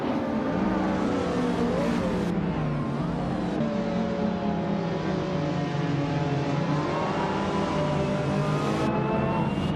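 Several race cars roar off the start line together in a racing video game, among them a 1994 Ferrari F355 Berlinetta F1; loud, dense engine revving with rising pitches throughout, close and continuous with no talk.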